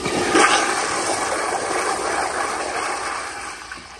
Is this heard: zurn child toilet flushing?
yes